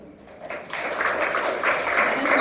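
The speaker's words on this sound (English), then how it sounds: "Let us all give a big applaud." An audience at a wellness session breaks into applause that swells from a few claps into steady, full clapping and keeps building, with no voices over it.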